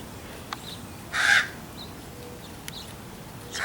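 Ravens, a mother with young birds foraging, give a few hoarse caws at a moderate distance, with one call mid-way and another at the end over a soft outdoor background.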